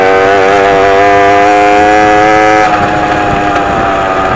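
A motorbike engine idles steadily and loudly up close, its rough harmonic drone holding even for most of the stretch before shifting slightly lower near the end, with no talking.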